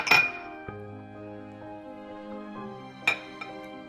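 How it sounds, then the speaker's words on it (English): A utensil mixing orange pound cake batter with vanilla and eggs in a bowl gives two sharp clinks against the bowl, one at the start and one about three seconds later, over a soft, sustained tonal background. "And I'm going to keep on mixing that."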